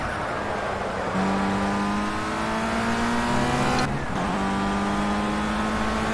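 A race car engine roars continuously in the Project Cars racing sim, loud and close, its pitch climbing through a gear, briefly dipping at a shift, then rising again with a harsh buzzing drone.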